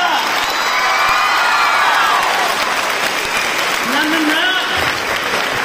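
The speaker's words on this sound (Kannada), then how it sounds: "ಚಪ್ಪಾಳೆ ಜೋರ ಬರೀಬೋದಲ್ಲ" An audience claps loudly at a literacy festival inauguration, a dense sustained burst of applause with a few faint shouts over it.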